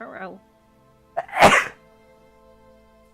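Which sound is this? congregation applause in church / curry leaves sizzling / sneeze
sneeze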